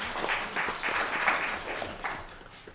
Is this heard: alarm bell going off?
no